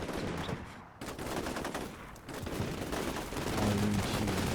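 Bursts of Mark 18 rifle fire in Combat Mission Shock Force 2, rapid repeated shots in a dense, continuous volley with brief dips, loud and without talk.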